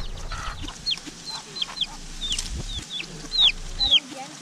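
Several chickens, a mother hen and her chicks, cluck and squawk nearby in short, scattered calls over a low outdoor rumble in Maui, with a couple of sharper shrill cries toward the end.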